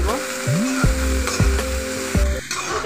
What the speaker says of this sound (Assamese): এতিয়া পাচলিখিনি এয়া ভাজি লৈছোঁ